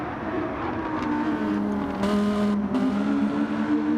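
Race cars power out of the hairpin at Daytona, engines droning and rising in pitch as they accelerate, with a second car's engine overlapping and swelling in loudness.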